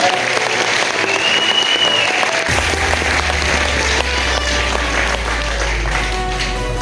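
Loud applause from a crowd at a company annual recognition night, dense continuous clapping joined partway through by a low steady hum, with some voices and music-like tones under it.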